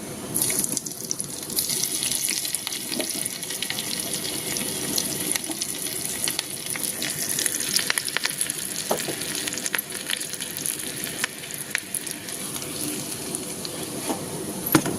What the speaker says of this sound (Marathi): इथं फोडणीसाठी आपल्याला घ्यायचं आहे एक चमचा गावरान तूप त्याच्यामध्ये हिरवी मिरची लाल मिरची घालून घ्यायची आहे